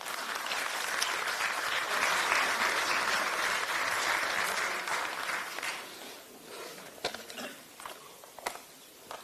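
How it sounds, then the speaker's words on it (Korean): Steady, vigorous applause rises from a large audience at a political party gathering, dense and even at first, then thins out into scattered individual claps. "힘찬 박수 부탁드립니다."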